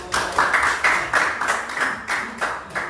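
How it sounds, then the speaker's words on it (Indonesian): Classroom of students clapping for a group that has just presented, a small indoor applause with rhythmic, evenly spaced bursts of claps repeating at a moderate pace close by. "Tepuk tangan dulu untuk"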